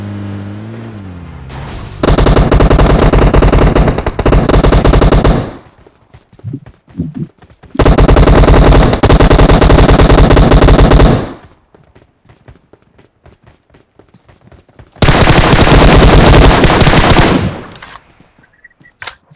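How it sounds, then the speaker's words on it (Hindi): Automatic gunfire in a battle royale match rattles in long sustained bursts, three heavy volleys of rapid shots separated by quieter stretches with scattered distant pops, loud and dense with no talk. "तभी हमें यहाँ से बंदों की फायरिंग की आवाज़ आती है"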